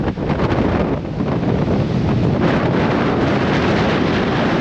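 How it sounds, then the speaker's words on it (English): Strong wind buffets the microphone on a cold, open hillside at a nature park in Malico, Pangasinan, a steady loud roar filling the whole stretch with no pause. "it's very windy and very cold"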